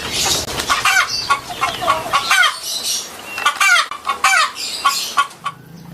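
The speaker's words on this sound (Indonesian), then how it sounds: "Ayam jantan." A rooster clucks in a run of close, loud, repeated calls, rising and falling over about six seconds, with short crow-like phrases in between and no talk.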